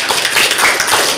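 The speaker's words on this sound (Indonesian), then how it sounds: "Tepuk tangan." Scattered hand claps from a small classroom audience at a university teaching session, a short burst of quick, uneven taps close by with no voices.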